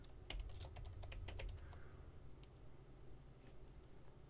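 A computer keyboard is typed on in a quick run of close, crisp keystrokes, bursts of clicks for about two seconds followed by a few isolated taps, quiet and alone against faint room noise.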